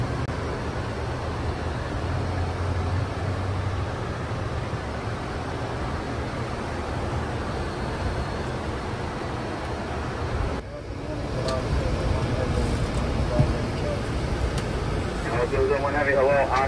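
Steady broadband roar of an airliner cabin on a long 12-hour flight, loud and continuous throughout with a brief dip near the middle.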